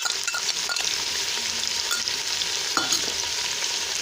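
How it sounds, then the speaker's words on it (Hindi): Chicken fries with garlic and ginger in a hot pan while a spoon stirs it gently, giving a continuous close sizzle broken by a few light scraping clicks. "इसमें चम्मच चलाते हैं आहिस्ता से ताकि चिकन फ्राई हो जाए अच्छी तरह से"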